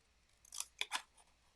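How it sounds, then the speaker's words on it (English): Small scissors fussy cutting stamped paper card pieces: three quick, crisp snips close up, quiet and alone. "now we're going to fussy cut all of these out."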